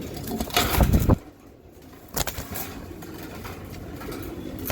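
Racing pigeons stir restlessly at night, a burst of close rustling and soft coos at the start, then quieter scattered shuffles and a few flutters, with no talk.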